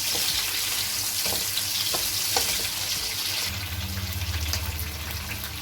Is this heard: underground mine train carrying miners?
no